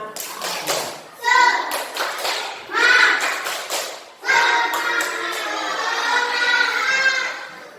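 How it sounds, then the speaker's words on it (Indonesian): Schoolchildren in a classroom do the rhythmic tepuk semangat spirit clap, sharp group claps interleaved with loud unison chanting, repeated in short bursts then a longer sustained shout, close by. "Coba tepuk semangat."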